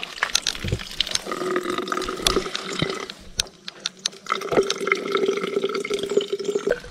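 Fresh spring water from the mountains splashes and trickles close by, with irregular drips and gurgles as it pours and fills, a brief lull in the middle before the flow resumes strongly.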